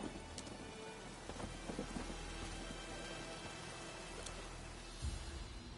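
Steady rain hisses across a Witcher III thunderstorm, with brief thunder rumbles near the start and a deeper crack toward the end, all without voices.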